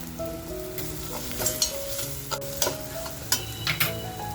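Masala for kharda egg curry fries in a pan, sizzling steadily while a spoon stirs and scrapes in several sharp clacks, with faint tonal hum underneath.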